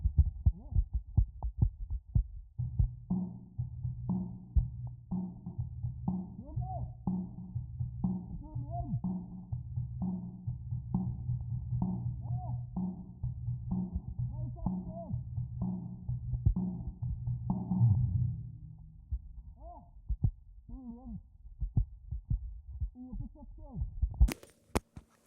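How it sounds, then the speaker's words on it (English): A drum kit being played, heard through an in-ear monitor mic. Steady, muffled thumping kick and drum hits repeat for most of the clip and fade toward the end, close and dull in tone. "so you can hear what I'm actually hearing when I'm playing the drums"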